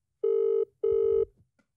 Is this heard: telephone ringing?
yes